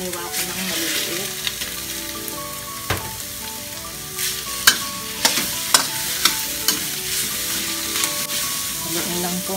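Chopped shrimp and onion stir-fry in a hot pan, giving a loud, continuous sizzle with quick spatula scrapes and clicks that grow more frequent toward the end.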